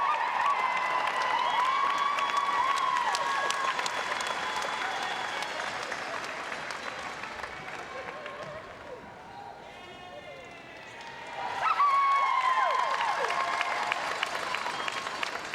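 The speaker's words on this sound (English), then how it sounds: "can you give her a big round of applause as she comes up to receive her medal?" Loud, sustained applause from a large crowd at a netball championship final medal presentation, dipping briefly in the middle before swelling again, with whistles and cheers rising above the clapping.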